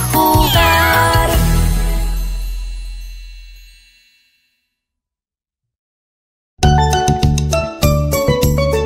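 Cartoon cats meow in a bright children's song, a run of tuneful meows over chiming music that fades out, then falls silent before the music returns.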